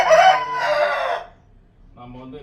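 A rooster crows loudly and close at the start, a long strained call, then goes quiet before softer clucking notes follow.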